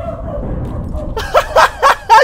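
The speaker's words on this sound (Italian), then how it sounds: "Zitto cane, zitto" In the video game APB, a dog barks four times in quick succession, sharp close yelps following a stretch of low muffled background noise.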